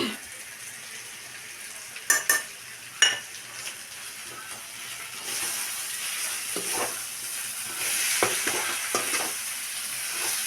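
Ground black pepper is stirred in a hot frying pan: a utensil clinks and scrapes against the metal a few times, then a soft steady sizzle builds and continues, with no talking.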